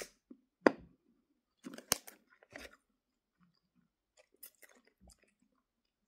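A small, hard, crunchy strawberry cloud-shaped candy is chewed close to the microphone, giving quiet, crisp crunches and bites at irregular intervals with near silence between them.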